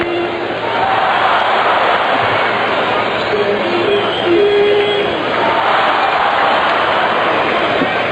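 A big crowd at a Cardinals–Expos baseball doubleheader roars and cheers steadily, with whoops rising and falling across the stadium and a faint tone or voice surfacing briefly.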